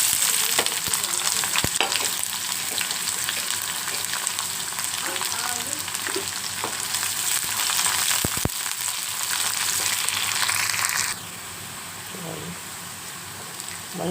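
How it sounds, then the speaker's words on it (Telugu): Onion and garlic frying in a pan, a loud steady crackling sizzle that continues close up throughout, with a few stirring scrapes, then softens slightly toward the end. "మంచిగా వేగుతుంది."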